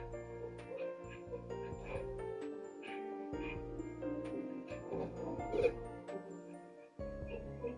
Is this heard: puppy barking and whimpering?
yes